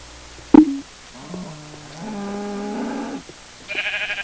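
Sheep in Minecraft bleat in a few short, separate cries, close and moderately loud, with a sharp thump near the start and a brief scratchy sound at the end.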